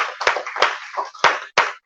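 A small audience claps along in rhythm to a presenter's lead, several sharp, uneven group claps spaced across the moment, fairly close and moderately loud.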